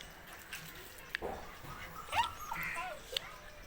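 Dogs whine and yip in short excited bursts, close by, with a thin high whimper rising over soft background noise.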